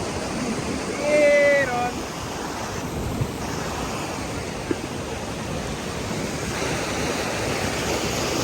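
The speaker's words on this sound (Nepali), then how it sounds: "पानी चाहिँ बवाला छ है" A strong stream rushing heavily, heard as a broad, constant roar close by, with a person speaking and a brief high whistle-like tone early on.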